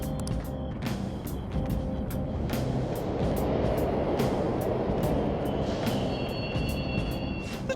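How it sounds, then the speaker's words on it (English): Subway trains rumbling past in the Mementos underground of Persona 5 Royal, a steady, fairly loud low roar with rattling clicks running throughout, no talk over it. "The trains are totally running!"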